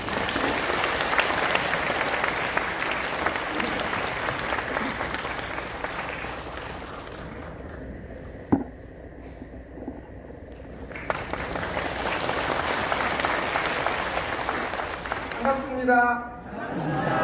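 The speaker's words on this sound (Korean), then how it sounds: "큰 박수로 해주시겠습니다." An audience claps loudly and steadily at a New Year ceremony, sustained applause that fades into a brief quiet before clapping resumes, with a voice speaking near the end.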